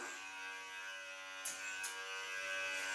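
A steady, close electric hair clipper buzzes continuously while cutting hair at home, with a couple of brief louder bursts as the blades pass through hair.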